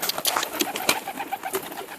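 Pigeons coo in soft repeated bursts close by during feeding, a rhythmic throaty warbling with scattered fluttery sounds and no voices.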